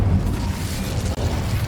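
Roaring, whooshing fire blast of the Incendio spell in the video game Hogwarts Legacy, loud and close, a dense crackling burst of flame lasting under two seconds with no talking.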